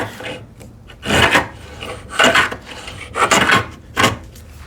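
Hand plane cutting wood, with four rasping strokes in a steady rhythm, each a short, loud, close shaving sound with brief pauses between them.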